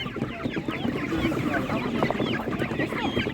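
Many chickens clucking and squawking together at an animal market in Ukraine, a busy, continuous chorus, close and fairly loud, with a voice faintly in the mix.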